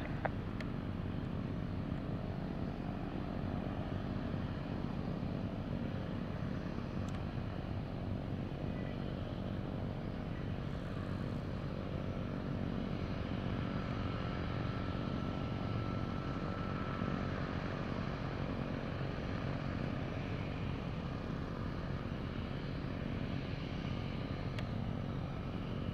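A steady, continuous drone from a Mooney 211 Special Edition propeller airplane fills the whole stretch, a constant engine hum with no voices.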